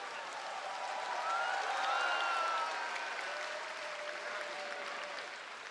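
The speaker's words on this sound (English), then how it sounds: "Please, ladies and gentlemen, a round of applause for LIU Shiwen." A large arena crowd at the 2017 Women's World Cup table tennis semifinal applauds Liu Shiwen, a sustained, even wash of clapping that swells slightly midway and carries on with faint whistles.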